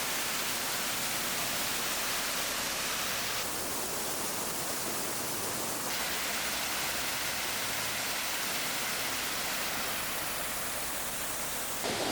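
A waterfall in Tasmania roars with a loud, steady, broadband rush of falling water, continuous and unbroken throughout, with no voices.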